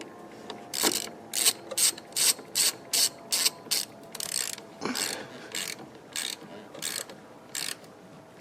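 A ratchet tightens the battery terminal on a 2013 Chevy Malibu, giving a close series of about fifteen crisp clicking bursts in a steady rhythm, alone with no talk.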